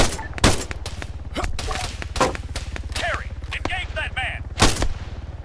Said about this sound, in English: Shots fired! Requesting support!